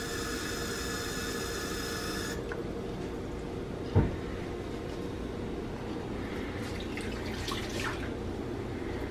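Warm water running from a kitchen tap into a measuring cup, a steady rushing splash with a single sharp knock partway through and faint clatter near the end, no talking.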